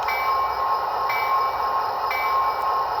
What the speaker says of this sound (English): we'll give the bell a couple quick rings